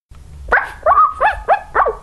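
A dog barks in a quick run of four or five close, loud yips and barks, alone without talk.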